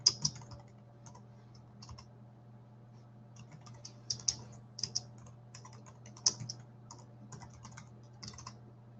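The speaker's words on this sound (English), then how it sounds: "I'm typing that in right now" Typing on a computer keyboard: soft, irregular key clicks in short bursts over a steady low electrical hum, moderately close and fairly quiet, with no talking.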